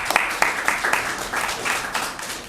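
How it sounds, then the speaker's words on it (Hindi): Scattered applause from an audience at a Hindi poetry gathering, a handful of distinct claps repeating unevenly over a few seconds, moderately close and fairly light, with no talking over it. "तो आप सब लोग के लिए एक बार ज़ोरदार तालियां हों।"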